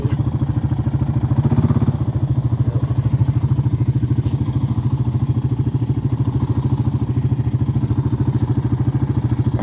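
Four-wheeler ATV engine running loud and close while turning near a well cap on a farm with a homemade hay unroller, a steady pulsing mid-pitched putter with a brief surge partway through.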